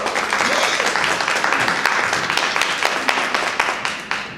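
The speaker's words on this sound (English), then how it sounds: "let's give these ladies a round of applause" Audience applause at an awards event, a dense steady clapping from a room full of people, close and loud, slowly thinning toward the end.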